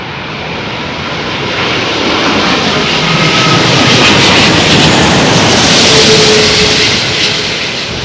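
An airliner landing in strong wind at Heathrow Airport, a loud jet roar that swells and holds steady as it passes close by, with no talk.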